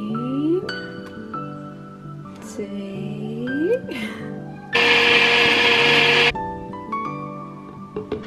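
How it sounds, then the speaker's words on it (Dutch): A blender whirs loudly for about a second and a half as it blends a smoothie of berries, Greek yogurt and frozen fruit, with soft chiming background music before and after. "Dus dat ga ik eventjes in de blender gooien."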